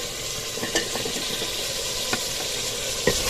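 Potatoes tossed into chicken sizzling in a pot, a dense, loud frying hiss close by, with a few brief stirring knocks against the pot and no talking.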